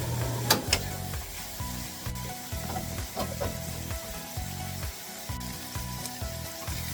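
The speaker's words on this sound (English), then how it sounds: "And stir while the beef browns." Ground beef browns in a pan with pepper, giving a steady sizzle broken by repeated rhythmic scraping strokes of a utensil as it is stirred, close and fairly loud with no talking.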